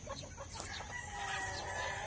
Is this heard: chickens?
yes